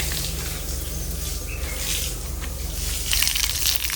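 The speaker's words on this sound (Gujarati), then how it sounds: "પાણી છાંટવાનું કામ હાલે." Water being sprinkled in a Gujarati village home, a steady gushing, pattering wash with a brighter burst of splashing toward the end, fairly close and without talk.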